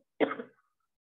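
A single short, gruff throat clearing, close and fairly quiet, over in about half a second.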